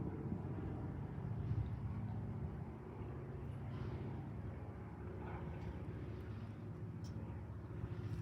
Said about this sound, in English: I hear a radial engine in the background, a plane's going by.